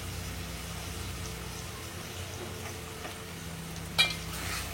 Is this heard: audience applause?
no